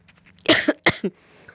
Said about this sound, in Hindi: माफ़ कीजिएगा, थोड़ी खांसी है